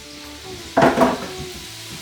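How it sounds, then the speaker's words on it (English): Matri for aloo chana chaat drops into oil on a medium flame, setting off a sudden short burst of bubbling sizzle that fades after about half a second into quiet background. "We have to fry it on the high flame."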